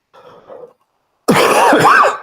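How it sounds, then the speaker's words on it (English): A soft throat clear, a brief pause, then a loud, harsh cough up close from someone with a lingering cold. "still got a bit of a cough from my cold from last week"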